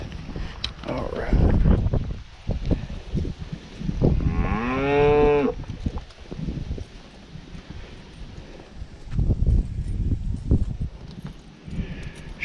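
Cattle on a farm moo, one long drawn-out low call standing out clearly near the middle, among rustling, footsteps and handling noises, with someone talking now and then.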